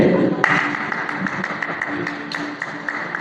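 Students clap for classmates standing at the front during a quiz, a continuous scattered patter of hands at moderate volume lasting a few seconds, with some talking mixed in.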